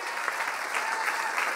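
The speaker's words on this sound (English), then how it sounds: "Give Dylan a little bit of a round of applause." Faint, steady applause from an audience at the 2015 Taite Music Prize ceremony, a short burst of many hands clapping heard from a distance.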